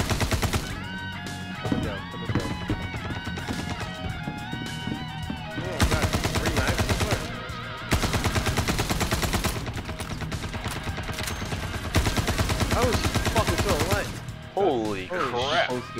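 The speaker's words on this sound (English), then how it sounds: "I'm shooting them right now." Rapid automatic gunfire in a Star Citizen space combat game, dense bursts of shots repeating through most of the stretch with short pauses, loud and close, over game sound.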